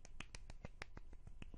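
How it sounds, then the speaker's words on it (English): Quick bursts of clapping, about a dozen sharp crisp claps in a fast uneven rhythm, faint and close with nothing else heard. "I hope you guys can hear that clapping."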